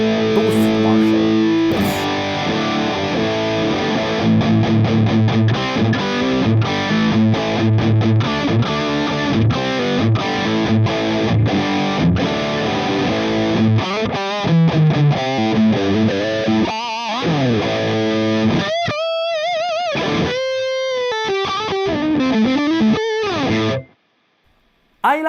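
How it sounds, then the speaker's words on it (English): An electric guitar through a boosted Marshall high-gain tone chugs dense distorted riffs and chords, loud and continuous, then rings into sustained bends before cutting off abruptly. "let's try the super high gain type of tone. I mean, super. The Marshall. Boosted Marshall."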